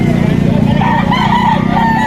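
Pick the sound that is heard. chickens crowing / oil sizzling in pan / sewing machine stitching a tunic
chickens crowing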